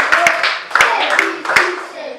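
A primary school class claps for a student in a mathematics lesson, giving a few loose rounds of sharp, close hand claps mixed with children's voices.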